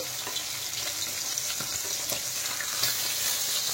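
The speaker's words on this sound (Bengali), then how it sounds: "এখন আমি মাছগুলো পাল্টে দেবো" Small chono fish fry in hot oil in a pan, a steady bright sizzle with faint scraping and tapping as they are flipped using two spoons, close up and continuous with no speech.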